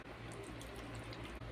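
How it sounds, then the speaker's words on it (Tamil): Water pours steadily into a tamarind onion curry, a continuous splashing rush with no people talking. "தண்ணி தேவையான அளவு விட்டுக்கோங்க"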